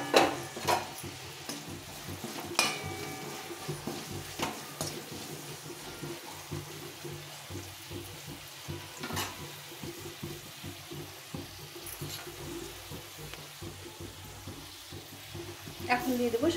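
Curry leaves dropped into hot oil while making puffed rice, with a soft crackling sizzle and occasional stirring clatter, faint and steady, and a voice speaking now and then over it.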